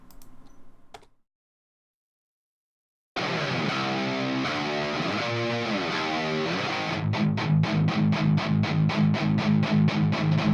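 Distorted electric guitar bus from a rock mix, uncompressed, playing sustained chords that shift into a rhythmic chugging pattern with loud, steady strums, alone after a brief gap.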